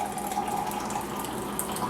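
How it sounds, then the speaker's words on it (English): Hot water pours steadily onto coffee grounds in a Stanley coffee press, a continuous close trickling stream with a faint ringing tone, without speech. "you're going to pour your water in with the coffee grounds"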